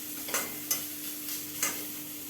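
Mixed vegetables frying in a pan on a home kitchen stove, giving a steady soft sizzle with three sharp clinks of a spoon stirring against the pan.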